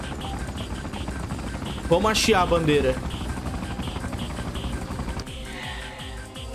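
Helicopter rotor noise in the video game Freedom Fighters chops steadily beneath gunfire bursts and in-game effects, while someone talks over the action.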